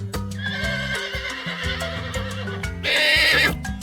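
A horse, presented among farm animals, whinnies near and loud for a moment, its neigh rising over a busy backdrop of clip-clop hoofbeats and steady rhythmic sound.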